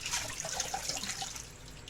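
Tap water runs steadily into a kitchen sink while fresh cilantro is rinsed under it, a continuous close splashing wash with no voices.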